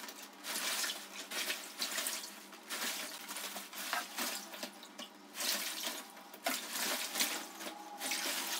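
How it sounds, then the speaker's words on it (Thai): A Therm-a-Rest Uberlite inflatable sleeping pad is dipped and moved through water, giving continuous close sloshing and splashing in pulsing waves. "ลองจุ่มตัวเบาะไล่จากขอบดูก่อนก็ได้ว่ามันมีฟองอากาศไหม"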